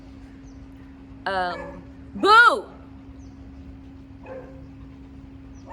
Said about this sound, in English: I'm so sorry y'all can hear that dog